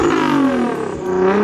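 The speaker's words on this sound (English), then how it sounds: "If you turn on the valves, you can hear them and listen to them, and the exhaust is completely different." A BMW M2 sports car's engine and exhaust with the valves open give a loud, close, steady rasping drone that sags slightly in pitch and then swells again.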